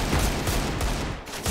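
Rapid gunfire in the video game CS:GO, dense overlapping shots in a continuous loud burst with a brief dip near the end and no talk over it.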